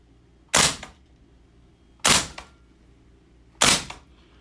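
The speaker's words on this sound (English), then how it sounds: "You can just watch when you shoot it, the blowback really kicks back nicely." Umarex VFC H&K PSG-1 gas blowback airsoft rifle firing three single shots, each a sharp close crack with a quick mechanical clack of the blowback, spaced about a second and a half apart over a quiet background.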